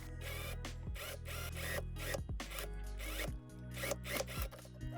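Repeated zipping and ratcheting sounds in quick bursts, close up and dense, as a zipper is worked back and forth on a dress being sewn.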